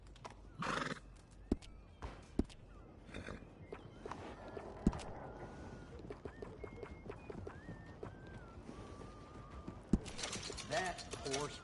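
A horse in the Red Dead Redemption 2 video game whinnies a few times amid hoof clip-clops and small tack and mechanical sounds, with faint background ambience and no talking.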